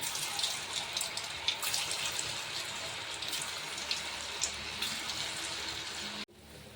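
Manchurian bottle gourd balls frying in hot oil over a medium flame, a steady close hiss and sizzle with small crackling pops throughout, cutting off abruptly near the end.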